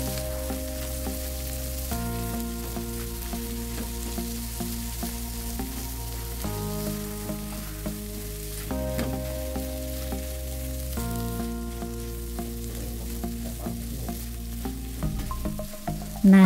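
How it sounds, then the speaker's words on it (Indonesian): Chili, tomato and bay leaves sauté in a pan with a steady, close sizzle, joined by a louder burst of stirring and clatter right at the end; no one talks. "Kemudian tumis hingga cabai dan tomatnya sedikit agak layu."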